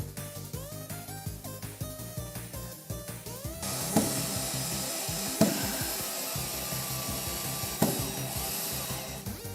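A power drill bores holes for wood screws in a wooden deck. A tonal whine gives way to steady, close grinding and rasping with a few sharp bumps, and no voices are heard.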